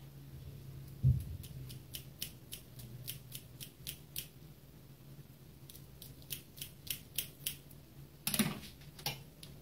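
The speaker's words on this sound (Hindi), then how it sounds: "एक हरी मिर्च काट के डाल दूंगी इसमें" Quick runs of crisp, evenly paced clicks from cutting a green chili into a mutton gravy in a home kitchen, close and clear, with a couple of louder knocks and a faint steady hum underneath.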